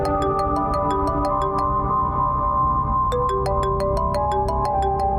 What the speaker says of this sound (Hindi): शकीला बीबी फोन कर रही है मुझे।